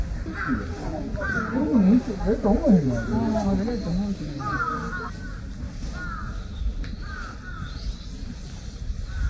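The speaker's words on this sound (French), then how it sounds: "Il y a un corbeau qui est en train de bouffer l'antenne." A crow in Japan caws while pecking at an antenna, giving several harsh calls over steady outdoor background noise, with voices talking nearby.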